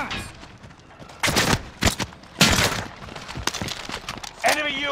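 Gunfire in the video game Call of Duty: several bursts of shots ring out amid game effects, with a voice talking briefly at the end.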